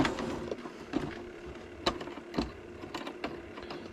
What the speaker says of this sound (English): let's get this off using my DeWalt screwdriver